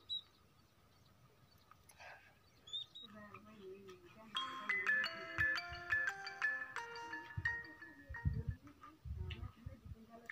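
A phone plays a repeating electronic ringtone melody while a call is being placed, loud and steady for several seconds, with a voice speaking and some household clatter underneath.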